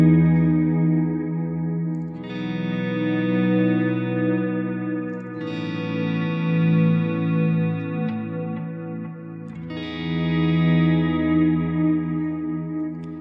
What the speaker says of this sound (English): which is just a typical digital delay that is not in ping pong